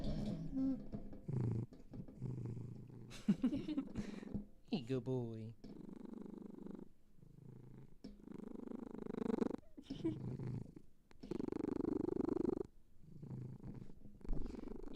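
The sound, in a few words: pet cat purring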